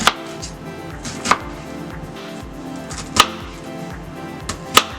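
A knife chops through an onion on a cutting board in four sharp, separate strikes spaced a second or two apart, loud and close, with quiet handling sounds between them and no talking.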